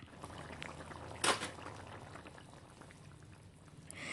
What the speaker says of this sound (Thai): พอให้แค่น้ำแกงกลับมาเดือดอีกหนึ่งรอบ